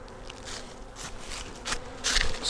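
Honey bees buzz in a soft, continuous drone at an open hive, close by and moderately loud, with individual bees swelling louder as they pass.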